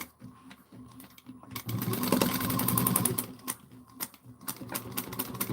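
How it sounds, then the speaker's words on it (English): A sewing machine stitches a bag lining at a 3/8 inch seam, starting in short bursts, then running a steady close rattling stretch before stopping and restarting in brief spurts. "We're going to sandwich this in. And we're going to sew this at 3/8 of an inch."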